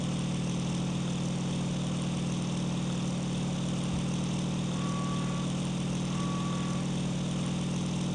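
A Bf-109K-4 fighter's engine after takeoff in the IL-2 Sturmovik flight game, heard as a constant, even engine drone with no breaks.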